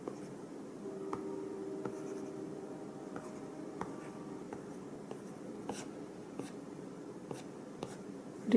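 Stylus drawing on an iPad Pro in Procreate, with light pressure shading color: faint, close scratchy strokes broken by small irregular taps of the tip against the glass over quiet room hum.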